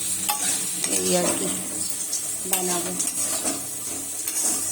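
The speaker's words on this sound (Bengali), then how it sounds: "আলু ভাজছি" Potatoes fry in a pan on a home stove, with steady sizzling under stirring scrapes and clinks of a utensil against cookware, while someone speaks briefly in the foreground.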